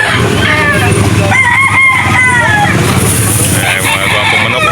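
A rooster crows at a gamecock sale, its long cock-a-doodle-doo rising over a busy outdoor crowd, with clucking fowl and someone talking loudly nearby.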